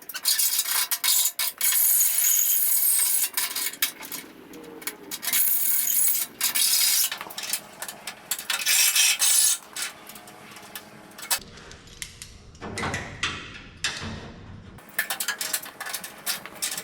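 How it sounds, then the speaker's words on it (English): Hand filing along the edge of a metal panel during a car restoration, a close run of rasping strokes in quick rhythm for about ten seconds, then quieter handling clatter and a few scrapes. "it's probably going to be easier just to spend a little bit of time filing this edge up a little bit more"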